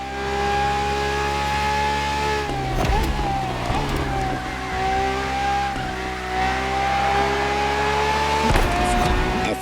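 Ferrari track-only race car in The Crew Motorfest video game, engine howling loud and steady at high revs, with brief dips and rises as it shifts, close and continuous.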